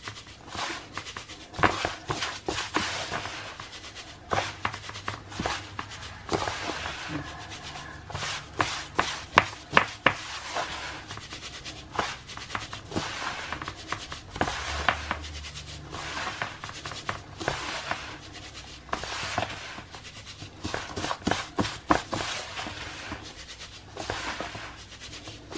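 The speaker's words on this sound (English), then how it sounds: "You just keep rubbing until all of that witch hazel is rubbed in." Hands rub witch hazel into a bath bomb mixture, giving soft scratchy rustling with intermittent sharper crumbly taps, close and fairly quiet, without talk.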